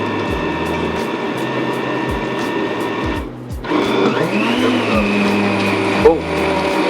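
A blender chops hot peppers for jerk chicken, its motor whirring loud and close with steady grinding, a brief pause near the middle before it spins back up.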